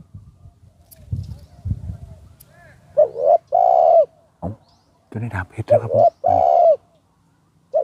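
A trained spotted dove, a decoy bird used for luring wild doves, calls in two clear bursts of rhythmic cooing, loud and close, after someone speaks over some rustling at the start.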